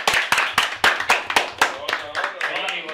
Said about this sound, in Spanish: fuerte aplauso con el invitado Chiste TV